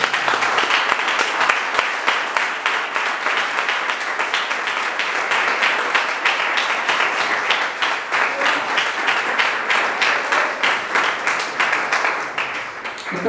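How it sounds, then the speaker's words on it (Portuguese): A church congregation applauds the Lord at an evening service, a dense, loud and sustained roar of many hands clapping that continues unbroken before easing slightly at the end. "Você pode aplaudir o Senhor nessa noite?"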